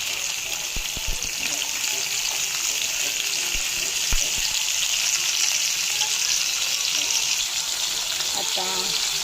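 Raw mango pieces go into plentiful hot oil with asafoetida, giving a bright, continuous close sizzle with a few sharp knocks and clatters and speech over it.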